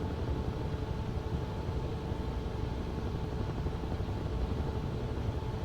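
Steady broadband rotor and turbine drone of a Huey helicopter in Microsoft Flight Simulator 2024, flying low over traffic, continuous and even in level throughout with no talk.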